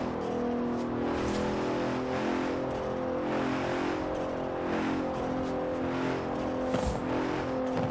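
A Bentley Continental in the racing video game Forza Horizon 4 drives with a steady, loud engine drone and rising and falling revs, continuous throughout with no talking.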